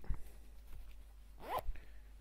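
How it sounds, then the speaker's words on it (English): A jacket zipper is pulled up in a couple of quick, close, quiet rasping strokes, with a brief rustle of fabric around them and no voices. "zip yourself up"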